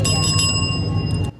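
A small hand bell for TikTok live selling rings rapidly and continuously for about a second, loud and close, bright metallic tones over a low room hum before stopping abruptly.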